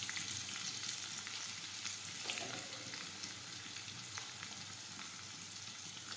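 Chopped onions fry in hot oil for muthiya dhokla, giving a faint, continuous hiss with occasional soft crackles. No one speaks.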